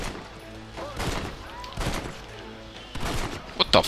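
Gunfire from the Red Dead Redemption video game sounds as a few sharp shots spaced about a second apart, moderately loud over quiet game ambience.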